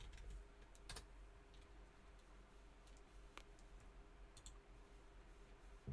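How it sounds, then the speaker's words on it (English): Quick, faint keyboard typing on a computer, a few scattered key clicks and taps over a steady low room hum, with no talking. "Intense typing."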